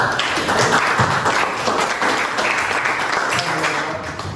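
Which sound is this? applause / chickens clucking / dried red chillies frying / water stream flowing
applause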